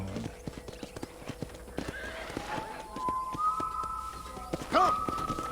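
Horse hooves clip-clop steadily at close range in the Red Dead Redemption game world, quickening into a run, and a sharp whinny breaks out near the end over a faint whistled tone.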